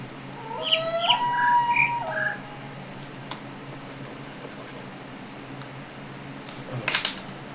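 Birds chirping in the video game The Witness: a short burst of bright, repeated chirps and calls in the first couple of seconds, then a soft steady ambience with a faint chirp near the end.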